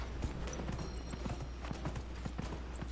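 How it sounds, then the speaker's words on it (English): Horse hooves clip-clop in a quick galloping rhythm in Dragon Age: Inquisition, a steady run of soft thuds over a low ambient game bed, with no voices. "Mount the horse. Let's get a gallop going."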